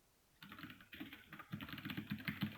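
Fast, steady clicking of keys on a computer keyboard while text is typed into a file, close and fairly quiet, in irregular bursts with a short pause before a denser run.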